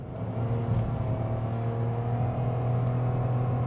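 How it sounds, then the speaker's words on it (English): The engine of a 2021 Mitsubishi Mirage drones steadily under acceleration from inside the cabin, a continuous low hum with a slowly rising pitch and no speech. "Listen to the engine."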